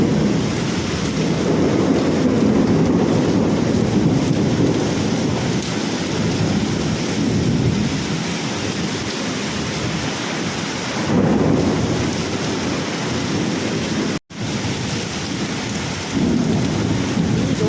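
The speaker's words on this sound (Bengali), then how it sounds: "জোরে বৃষ্টি পড়ছে" Heavy rain pours steadily with a deep rumble of thunder rolling underneath, loud and continuous throughout.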